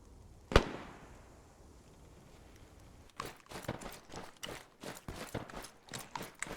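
Arma 3 gunfire: one sharp isolated shot, then after a pause a ragged burst of several quick shots at uneven intervals, moderately distant, with no talking over it.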